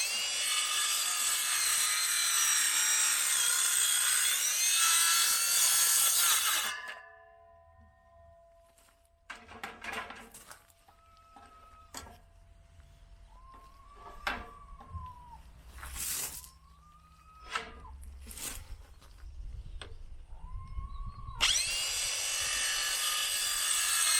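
Wood is being hand-sawn in a garden, with a series of rasping strokes in the quieter middle stretch. Louder broadband noise stands at the start and end.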